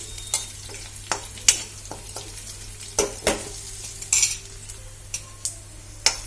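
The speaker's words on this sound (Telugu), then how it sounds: "చూడండి వెల్లుల్లి అయితే వేగిపోయింది కదా" Garlic sizzling in a pan for cabbage dal, a soft continuous fry under repeated sharp scrapes and clinks of a spoon stirring against the metal, close and fairly loud.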